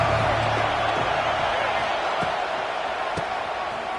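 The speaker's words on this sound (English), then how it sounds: "Decibels rising as the crowd gets behind this defense on 3rd down." A college football stadium crowd at Texas A&M vs Notre Dame roars on a third-down play, a dense sustained wash of noise with a few sharp thumps poking through.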